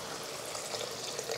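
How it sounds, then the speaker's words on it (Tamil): Water is poured into a cooking pot while making Kerala-style ulli theeyal, a brief, faint, steady splashing stream lasting about a second and a half. "இப்போ தண்ணி சேர்த்துருவோம்."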